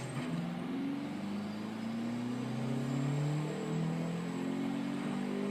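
A 2015 Audi S1 in the racing game Forza Horizon 2 accelerates smoothly, its engine note climbing steadily through the gears in a continuous rising drone with a shift near the middle, no talking.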